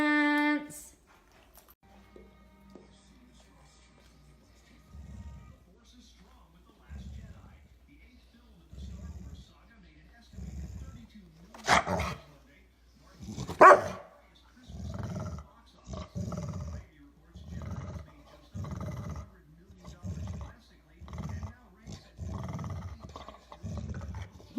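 A dog growls and barks in repeated short bursts while playing with two balls, the rumbling sounds recurring steadily through most of the stretch, close and fairly loud, with a few sharper noises partway through.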